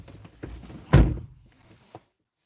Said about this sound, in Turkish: Kapıyı da çek. Tamam çek kapıyı.